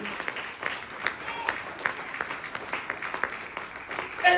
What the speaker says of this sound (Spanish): Denle un fuerte aplauso al Rey de Reyes y Señor de Señores.